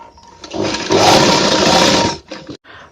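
A sewing machine stitches the side seams of a men's shirt in one loud, continuous rapid whir lasting about a second and a half, then stops with a couple of brief clicks.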